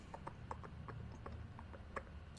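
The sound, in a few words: voice imitating a horse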